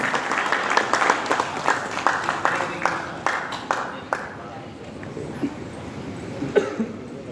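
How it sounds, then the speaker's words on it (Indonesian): Audience applause at a formal installation ceremony for an organization's officials in West Jakarta, a sustained burst of clapping from a crowd that thins out toward the end, with scattered coughs. "Beri tepuk tangan yang meriah untuk Bang Haji Abdullah Esos."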